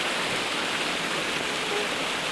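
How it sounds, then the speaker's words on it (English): Steady, loud rushing of a waterfall, a continuous broadband roar that is heard alone without any voices. "We won't hear a word you're saying over the waterfall."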